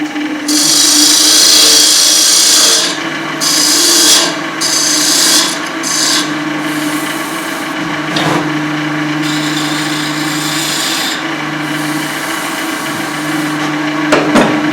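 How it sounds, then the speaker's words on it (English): Hand sanding of a small carved wooden snowman figure, a steady rasping rub in long continuous strokes with brief pauses, close and fairly loud with no talking. "I said I wasn't going to do any sanding, I'm just going to do a little bit on this."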